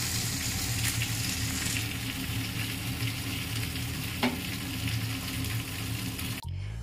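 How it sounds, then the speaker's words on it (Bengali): Two fish heads fry in a pan with a loud, steady, dense sizzle that stays close and constant, broken by a single brief knock near the end. "এখানে দিয়েছি মাছ, দুটো মাথা ভাজতে দিয়ে দিয়েছি"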